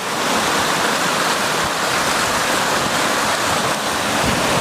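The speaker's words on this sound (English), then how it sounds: "These waves form when water collides with an obstacle or due to specific features of the seabed." Large waves of floodwater in New Mexico roar and churn in a dense, continuous wash of noise, loud and steady, with no voices.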